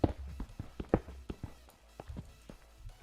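Cows walking in the Minecraft video game, a series of soft, uneven footstep thuds at close range, about a dozen steps over three seconds with no talking.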